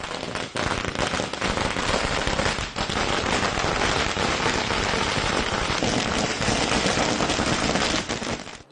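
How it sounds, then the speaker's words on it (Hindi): Firecrackers burst continuously outside the Bhojshala complex during a Diwali-style celebration, a dense, loud crackling barrage of rapid pops that runs without pause for the whole stretch. "भोजशाला के बाहर पटाखे जल रहे हैं।"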